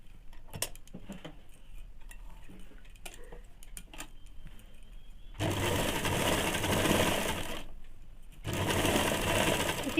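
A sewing machine runs double stitching on ladies' pants, starting with light clicks and handling sounds, then whirring loudly and close in a long burst, pausing briefly, and running again to the end.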